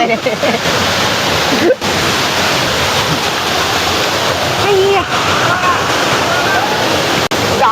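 Anachadikuthu waterfall in Idukki roars loudly and steadily, a dense continuous rush of falling water close by, with faint voices of people mixed into the din.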